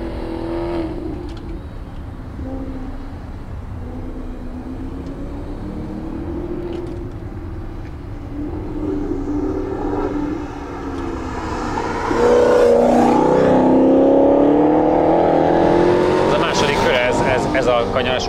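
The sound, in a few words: Maserati GranTurismo naturally aspirated engine on a race track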